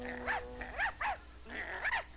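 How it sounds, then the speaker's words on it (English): Several dogs barking in short bursts, a few scattered yaps and growly barks at moderate distance over a low background hum. "More than one dog, and coming closer."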